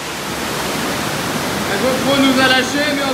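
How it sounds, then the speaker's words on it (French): Roaring underground waterfall deep in the Gouffre Berger cave system, a steady broadband rush filling the space, with voices briefly rising over it toward the end. "vers la cascade, vers la cascade!"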